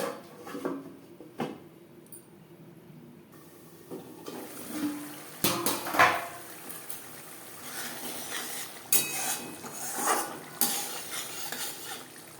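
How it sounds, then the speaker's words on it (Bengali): Masala spice paste with a little water frying on low flame for Bengali tel koi, a soft steady sizzle under repeated spatula scrapes and clinks against the pan, near and uneven in loudness, with no talking. "লো ফ্লেমে ঢাকনা চাপা দিয়ে তিন চার মিনিট মশলা আমি কষিয়ে নেব"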